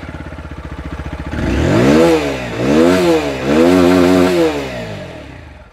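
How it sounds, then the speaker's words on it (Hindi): A TVS Apache RTR 160 4V motorcycle in sports mode idles with a rapid exhaust putter, then revs up loudly three times in quick succession, each rise and fall close and clear, before settling back to idle. "अब एग्जॉस्ट साउंड सुना देता हूं आपको।"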